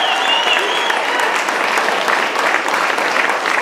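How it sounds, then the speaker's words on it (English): An audience applauds coaches at a Girls on the Run keynote event, steady dense clapping from a crowded room, loud and continuous throughout. "Round of applause for our coaches."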